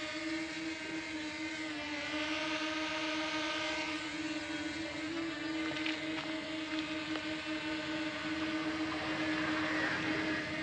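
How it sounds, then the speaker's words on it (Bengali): A small drone lifting off and climbing, giving a steady, faint whirring hum of spinning propellers that holds an even pitch with no talk over it. "আমরা এই বাটনটা প্রেস করব, দেখুন ড্রোনটা উপরে উঠতেছে।"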